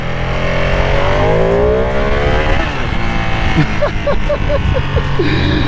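A 2020 Ducati Panigale V2 motorcycle engine revs loudly and close, its pitch sweeping upward then settling into a steady high drone with a few rapid throttle blips near the end.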